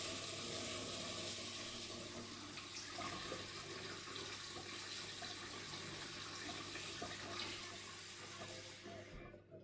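Hot water runs steadily from a tap into a vessel while making bread dough, a continuous close splashing hiss that cuts off near the end.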